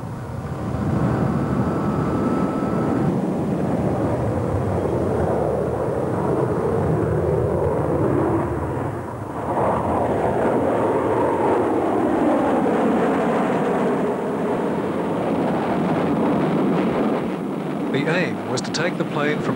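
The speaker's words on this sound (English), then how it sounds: "the test pilot, Walter Smith, used the self-starter on the plane to get the engine going and then taxi the plane directly" An A-4 Skyhawk jet engine roars steadily throughout its takeoff run, a loud continuous broadband rumble with shifting whine tones, while a voice talks over it.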